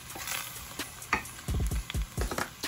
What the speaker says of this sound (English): I know y'all hear that little bit of a sizzle